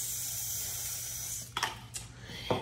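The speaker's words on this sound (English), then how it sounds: "we're gonna spray the pan." Non-stick cooking spray hisses steadily onto a baking pan for about a second and a half, followed by a few short bursts of spray.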